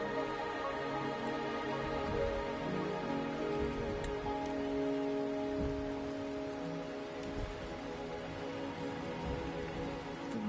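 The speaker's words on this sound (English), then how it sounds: "The rain is subsiding, and the sky will soon clear." Steady rain falls in the video game Wuthering Waves, a dense, even patter close by that holds at constant loudness throughout, with a faint low rumble beneath and no voices.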